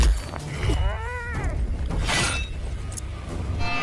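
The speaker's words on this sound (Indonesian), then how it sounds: "garu sakti milik Tianfeng akhirnya hancur seketika seperti kerupuk" A magic rake smashes apart during a fantasy film battle between Wukong and Tianfeng in Marshal Tian Feng (2020): a sharp, bright burst of shattering over a dense, loud soundtrack with whooshing effects.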